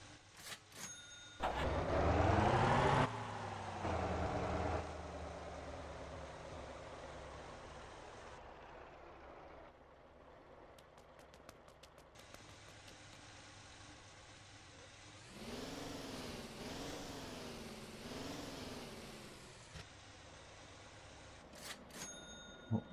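A tanker truck in the video game Motor Town idles, then revs hard several times, its engine swelling and dropping in loud surges between calmer steady stretches, heard close with no talking.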